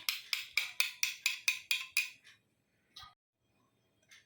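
A spoon mixes curd with salt in a bowl for a brinjal curry, striking the bowl in a quick, even run of about nine bright clinks, then two sparse, fainter taps after a pause.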